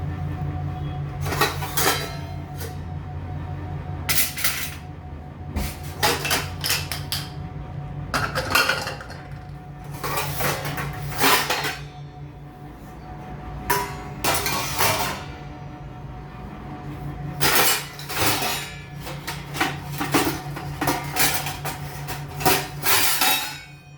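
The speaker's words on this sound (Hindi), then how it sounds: "पहले बर्तन सब समेट लूँ, यहाँ पे बर्तन वो सब कर लूँ।" Steel dishes, pots and utensils clatter and clink repeatedly in a home kitchen as they are gathered and stacked, in irregular bursts of metallic knocks close by, with a low steady hum underneath and no talk.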